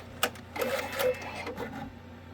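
An Avance embroidery machine starts stitching, giving a few sharp mechanical clicks followed by a quiet, irregular whirring and tapping, fairly faint and close.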